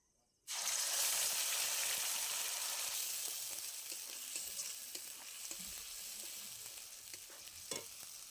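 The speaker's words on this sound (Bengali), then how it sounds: "মিক্সির মধ্যে কাঁচা লঙ্কা, আদা, সর্ষে, নারকেল কোড়াই পেস্ট দিয়ে দেব ফোড়নে" A paste of green chili, ginger, mustard and grated coconut hits hot oil in a tempering with a sudden loud sizzle that gradually settles into steady frying with faint stirring clicks.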